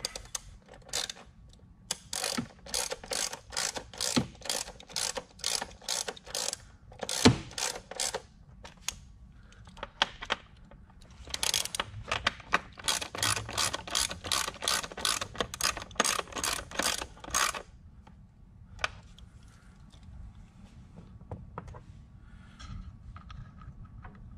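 A hand ratchet tightens the bolts of a J&L oil catch can on a Ford F-150 3.5 PowerBoost, giving repeated bursts of fast, close metallic clicking, separated by short pauses, with no talking.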